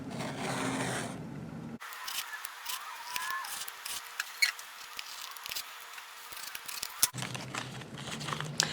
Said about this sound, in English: I'm just gonna keep cutting down until I hit my cardboard.